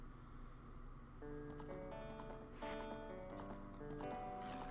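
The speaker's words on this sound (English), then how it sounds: "Lon Lon Ranch with horses running around" Horses running around Lon Lon Ranch in The Legend of Zelda: Ocarina of Time, their faint hoofbeats clopping beneath a soft melodic game soundtrack.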